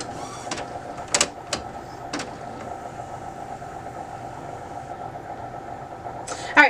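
An Epson WorkForce WF-3720 inkjet printer shifts its ink carriage with a steady mechanical whir, punctuated by a few sharp clicks and clunks, close by in a quiet room.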